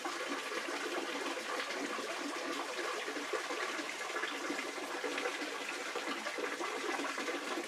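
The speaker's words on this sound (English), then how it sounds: "Here's the creek right down here." A creek in a wooded ravine flows with a steady, loud rush of water. The broad, continuous wash never changes and no voices are heard over it.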